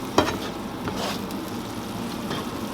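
Garden pesto made with purple basil cooks in a pan, giving a steady, soft sizzle with a faint stir or clink near the start. It is close and even throughout.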